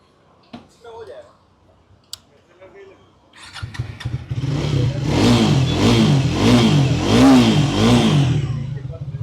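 A Triumph Thruxton 400 motorcycle engine cranks and catches after a few clicks, then settles into a steady, throaty idle with a rhythmic pulsing, close to the microphone.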